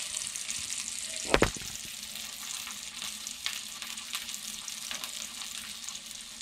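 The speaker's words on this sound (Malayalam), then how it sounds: "ക്രിസ്പിയായിട്ട് കിടക്കണമെന്നുണ്ടെങ്കിൽ ആദ്യം തന്നെ വെളിച്ചെണ്ണയിൽ നമ്മൾ വറുത്ത് കോരിയിടണം." Bitter gourd frying in hot coconut oil sizzles steadily in a pan for a Kerala-style curry, with a sharp clank of a utensil early on and light scraping strokes, no talk.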